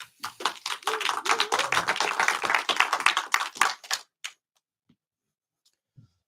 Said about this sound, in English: Right, and a big round of applause for our next demo.